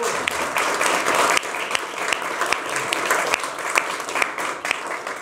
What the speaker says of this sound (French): Ben, on peut l'applaudir